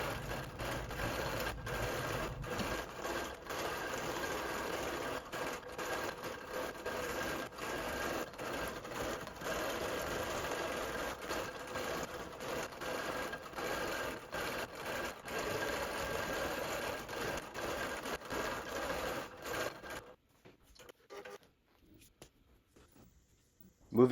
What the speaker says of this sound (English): I'm going to stitch the same flower design that we used